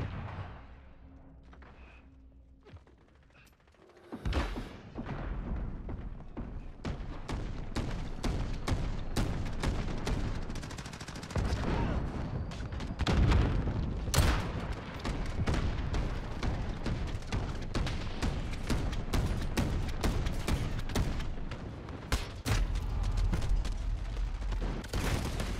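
Video game gunfire crackles almost nonstop, with dense rattling shots and occasional heavier booms after a quiet opening, loud and sustained throughout.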